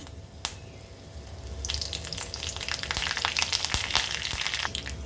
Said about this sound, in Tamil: நெய்யில் கடுகும் கருவேப்பிலையும் சேர்த்துக்கிறேங்க.